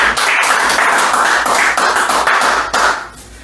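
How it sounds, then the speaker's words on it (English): Several people clap together in a podcast studio, a quick burst of dense, close, sharp claps lasting a few seconds before tapering off. "Just clap it up real quick."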